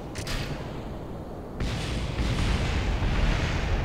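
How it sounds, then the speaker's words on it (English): Deep, rumbling rocket explosions in Kerbal Space Program, a rough burst of noise that swells and thickens after a short pause, continuing as a heavy roar. "fiery explosions"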